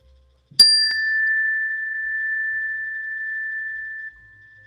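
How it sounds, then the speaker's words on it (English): A meditation bell gives a single clear strike, then a pure ringing tone sustains evenly for about three and a half seconds before cutting off, alone in near silence. "At the sound of the bell, just notice the sound until you cannot hear it any longer"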